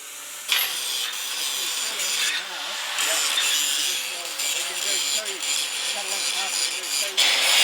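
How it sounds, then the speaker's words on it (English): An angle grinder rounds off and cleans up freshly welded steel stabiliser arms, giving a steady, close, rasping grind that runs nearly throughout with slight shifts in pressure, and faint voices are mixed in. "We're just giving it a nice radius with the grinder."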